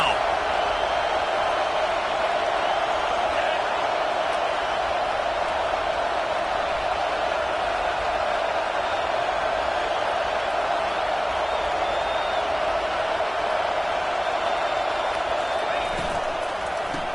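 A football stadium crowd roars steadily throughout, a dense, loud wall of cheering and noise behind a defense, with faint bursts rising above the sustained din.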